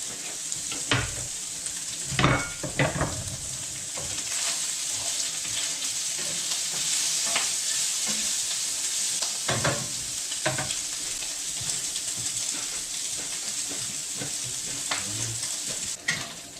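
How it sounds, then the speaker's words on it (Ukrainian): Salo, pork fat, sizzling and frying in a pan for fried eggs, a continuous loud crackling hiss with occasional stirring scrapes and clinks, no voices. "сальце у нас смажиться"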